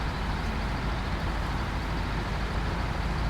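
A truck engine from a logging video game hums in a steady, dense drone that stays constant and close throughout.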